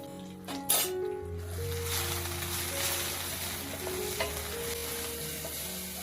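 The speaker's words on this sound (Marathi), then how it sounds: "दोन मिनिटं परतून घेऊ" Curry leaves, ginger, green chili and a hand-pounded spice mix sauté in hot oil with mustard seeds, a steady close sizzle with soft stirring scrapes and an occasional metallic clink of the spoon.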